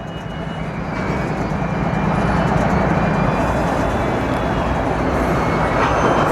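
A freight train hauling cargo slowly past somewhere below in an outdoor park setting, a steady, loud, broadband rumble that builds slightly in the first second and then holds constant throughout, with no talking.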